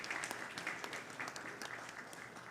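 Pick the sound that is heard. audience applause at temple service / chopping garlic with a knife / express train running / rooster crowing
audience applause at temple service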